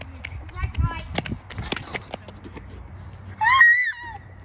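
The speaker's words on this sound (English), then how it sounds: "She screamed." During an outdoor red light green light game, a person lets out a high, wavering scream near the end, after excited talking and footsteps.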